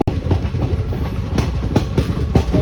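A train pulls out of Kareli railway station near Narsinghpur, wheels clacking rhythmically over rail joints in a steady, close rumble with no voices.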